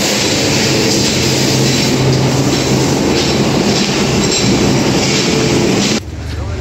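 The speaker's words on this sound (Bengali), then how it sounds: "সামনে আছে রেল স্টেশন" A train passes close by at a railway station, a loud, continuous rumble with clattering wheels and some squeal that holds steady, then drops away sharply near the end.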